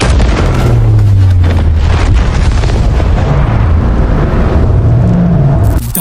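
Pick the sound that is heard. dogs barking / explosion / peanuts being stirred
explosion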